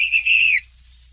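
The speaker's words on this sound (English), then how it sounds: "Suddenly, the whistle blew." A single loud, shrill whistle blast lasting about half a second with a slight wavering pitch, cut off sharply, then near silence; no speech.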